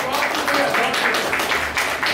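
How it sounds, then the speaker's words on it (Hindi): Audience applause at a Hindi poetry recital, a brief burst of close, fairly loud clapping lasting about two seconds with a slightly pulsing texture. "ताली बजा दीजिए मुझे"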